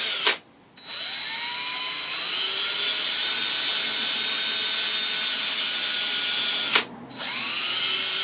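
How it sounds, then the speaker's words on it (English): A power drill bores into a wooden walking stick, a steady loud whine with rising pitch sweeps, briefly stopping near the start and again near the end before resuming, with no talk. "I've got a bit in the drill that's about the right size"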